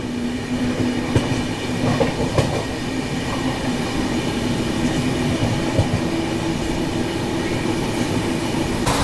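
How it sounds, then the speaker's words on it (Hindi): The Kamakhya–Rohtak Amrit Bharat Express rolls past at close range, a continuous heavy rumble with rhythmic wheel clatter over rail joints and faint squeals, no voices. "अभी देखो सामने से ये आ रही है कामाख्या रोहतक अमृत भारत एक्सप्रेस।"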